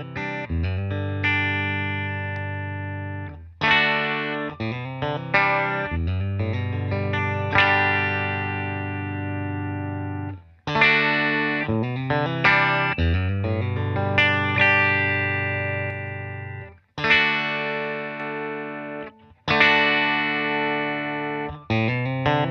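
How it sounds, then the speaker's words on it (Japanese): Electric guitar played through an EMD PD1 pedal set as a clean boost that only pushes volume, sustained chords and arpeggiated notes ringing out in several phrases with short pauses, loud and close without speech. "クリームブーストサウンドというか、本当に 音量だけをプッシュするセッティングです。"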